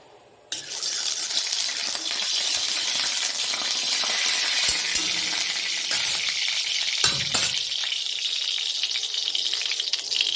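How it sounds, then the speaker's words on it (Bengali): Bitter gourd pieces hitting hot mustard oil in a wok, a sudden loud sizzle that stays strong and continuous with a few scrapes and clinks, nothing else over it. "কড়াটা গরম হয়ে গেছে, একটুখানি সর্ষের তেল দিয়ে দিই, বেশি করে তেল দিয়ে আমি ভাজবো না এটা। এবার তেতোগুলো আমি এতে ঢেলে দেবো।"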